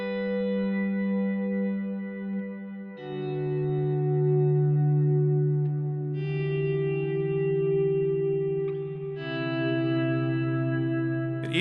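Sustained guitar chords through a Line 6 Helix patch, drenched in moon reverb and auto-swelling ambient echo, shifting to new chords every few seconds with smooth, washy tails.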